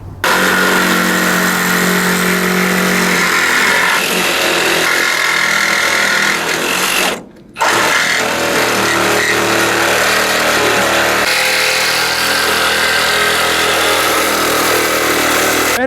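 Milwaukee Sawzall reciprocating saw cutting through a car part at a U-pull junkyard, a loud, close, continuous buzzing drone that stops briefly about midway, then starts again and keeps running.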